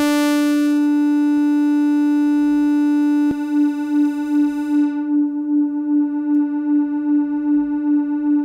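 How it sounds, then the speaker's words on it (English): Sustained synthesizer tone with the sustain pushed fully up, for an R&B bass sound, holding one steady pitch with rich harmonics, then continuing with a gentle pulsing wobble after a click partway through, loud and alone. "a lot of times the bass will have a full sustain, right? So we push the sustain all the way up, and so we got this sound here"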